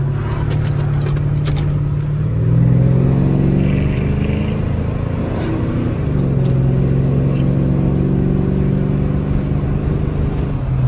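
A pickup truck with a 5.8 engine revs up through its exhaust, a loud, close, steady low engine note that rises in pitch around the middle and then falls back to idle.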